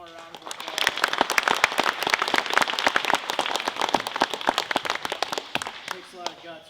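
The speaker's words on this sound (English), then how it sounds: "let's give them all one more round of applause." Applause from the audience at a school DARE program event, steady mixed clapping with crisp individual claps throughout, and voices underneath.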